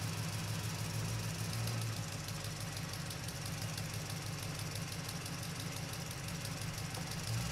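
A motorcycle engine runs at low speed while riding slowly along an alternative road in Cikarang, Indonesia, a steady, moderately loud low rumble with wind noise and no talk.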